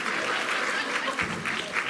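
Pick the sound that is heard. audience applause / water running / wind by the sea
audience applause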